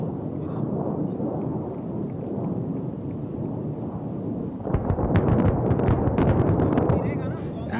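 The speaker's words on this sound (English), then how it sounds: "Watch the bombs fall, moving towards this target for a definite obliteration." Steady low rumble gives way to a burst of heavy, booming explosions of air-dropped bombs hitting a target during the Indian Air Force Vayu Shakti 2024 exercise, loud and dense with crackling debris.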